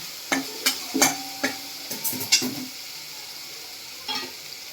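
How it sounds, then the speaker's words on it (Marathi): Green chilies frying in hot oil in a pan, with a steady soft sizzle and several sharp scraping clicks from a spoon stirring them, close by and without speech. "असं छान तेल सुटल्यासारखं झालं म्हणजे मिरची छान परतली गेली."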